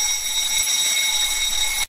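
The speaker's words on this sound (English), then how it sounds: "It's the fire alarm that goes off." A fire alarm rings loud and steady in a building, a piercing continuous electronic tone with no breaks that cuts off abruptly at the end, with no talking.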